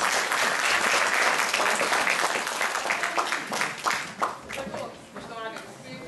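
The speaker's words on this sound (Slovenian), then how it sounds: "En velik aplavz za vas" Loud, dense applause from the audience at a Slovenian election convention, strong at first, then thinning into scattered claps with some voices near the end.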